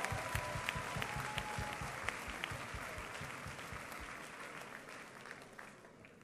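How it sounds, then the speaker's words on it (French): A church congregation claps for Jesus in a dense, lively burst of applause from many hands. It fills the room and tapers slightly toward the end, with faint crowd murmur underneath. "I want you to clap for Jesus Christ."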